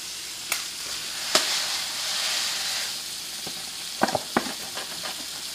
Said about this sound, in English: We're gonna go ahead and pour both boxes of Orzo into the rapidly boiling water.